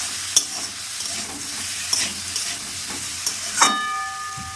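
New potatoes and peas with salt are stirred in a pan, a continuous soft frying sizzle punctuated by several sharp clacks of a spoon against the pan, close, with no talking.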